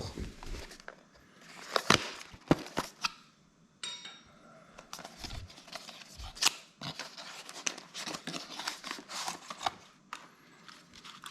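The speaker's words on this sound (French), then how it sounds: "Donc on va ouvrir la boîte." Aqara Wireless Remote Switch H1 box being opened and handled, with scattered crisp cardboard and plastic clicks, rustles and taps close by at moderate level, arriving in irregular bursts over the whole stretch.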